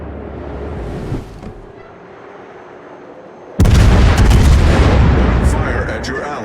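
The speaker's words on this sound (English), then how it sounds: "Why is this New Orleans shooting at me?" Gun batteries of the cruiser New Orleans firing in World of Warships: a quieter stretch gives way to a sudden heavy booming salvo that stays loud and rumbling to the end.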